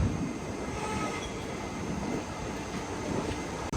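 The Ajanta Express rolls steadily along the track just out of Kacheguda station in a constant broadband rumble. Faint wheel squeal and rail noise come through the carriage, loud and continuous, with no talking.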